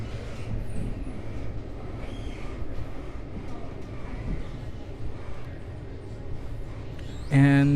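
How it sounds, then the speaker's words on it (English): A Brightline passenger train from Orlando passes near West Palm Beach station, a steady low rumble and rolling rail noise heard from inside another train, ending with a sharp, loud tonal horn blast. "I believe that is actually a train from Orlando."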